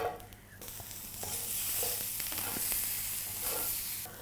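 Asparagus frying in leftover steak butter in a pan gives a steady broadband sizzle that swells after the first second, with soft stirring scrapes and small pops running throughout, close and alone.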